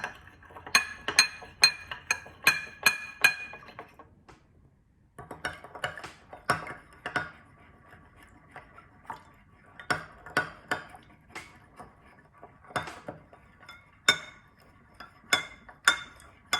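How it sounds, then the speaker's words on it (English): Spoon stirring salt in a glass so it dissolves, making bright repeated clinks against the glass in quick bursts with short pauses, close and fairly quiet. "Give it a stir so it can dissolve."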